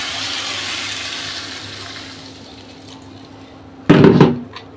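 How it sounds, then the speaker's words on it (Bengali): Water poured into a pan of sautéed spinach, aubergine and bori curry: a short, loud rushing splash and hiss that erupts after a quieter stretch of faint kitchen noise. "এবার পানি দিয়ে দেবো"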